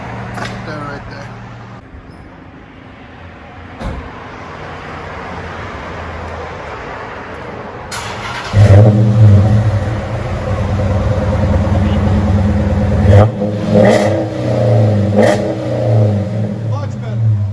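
A 2013 Dodge Challenger with a 5.7L HEMI V8, Flowmaster 40 Series exhaust, X-pipe and resonator delete, rumbling at idle and then revving loudly in several sharp bursts, close to the microphone with some background noise.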